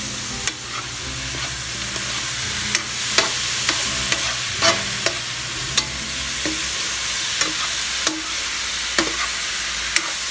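Eggplant and chayote stirred in a sizzling cooking pan, a steady frying hiss under repeated sharp scrapes and clinks of the utensil against the pan, roughly every second.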